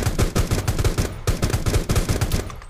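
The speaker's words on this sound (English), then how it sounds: "Oh, dude, we shot his bike." Rapid automatic gunfire in a video game, loud and close, dense bursts of shots with a brief pause midway before the firing resumes.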